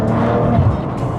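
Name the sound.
Maserati Ghibli S exhaust note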